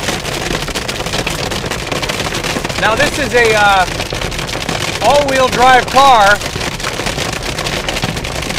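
Hail pounds a Mercedes C Class, an all-wheel-drive car, driving on a road covered white with hail, a dense steady rattling roar throughout, with people talking over it.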